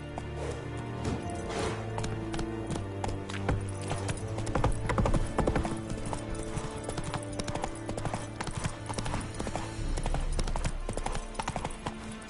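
Hoofbeats of a horse galloping in the video game Witcher 3, a rapid clip-clop running under a dense, continuous layer of game music and effects.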